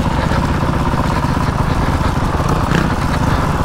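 An enduro motorcycle engine on a farm in New Zealand runs on throttle with a steady, gravelly mid-pitched drone, close and loud throughout with no speech.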